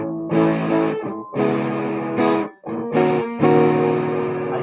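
Distorted electric guitar through a 1980 Polytone Mini Brute II amp, strummed in several loud sustained chords with brief gaps between them, played alone with no talking.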